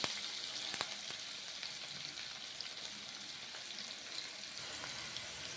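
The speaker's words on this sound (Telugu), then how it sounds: "ఉల్లిగడ్డలు బాగా వేగినాయండి" Onions frying in oil left over from frying fish, a continuous, even crackling sizzle in the pan, fairly soft, with no voices.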